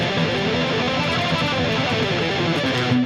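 A heavily distorted electric guitar plays a busy line, a dense, loud, continuous buzzing wash with smeared notes and unwanted string noise, alone without talk.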